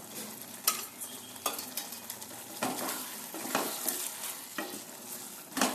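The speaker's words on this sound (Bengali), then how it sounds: "ভিনিগার দিয়ে একটু নাড়াচাড়া করে" Chicken Manchurian being stirred in a pan just after a spoon of vinegar goes in, a soft sizzle under irregular scraping strokes of a utensil against the pan, close and moderately loud.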